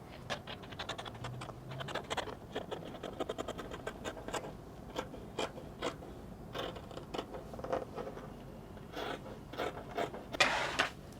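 Scissors cut out a paper sewing pattern for a wrap dress, a series of close, crisp snips and papery rustles with brief pauses between cuts, and no talking.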